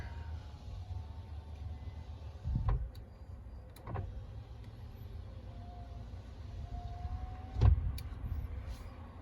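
Car power window motors whirring one after another as all four windows run, steady low hum with a few short thumps as each window reaches its stop.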